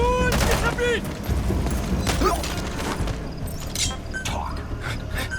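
Gunfire in Metal Gear Solid V: The Phantom Pain, a scattered fusillade of shots mixed with game sounds and shouting voices throughout, moderately loud and overlapping.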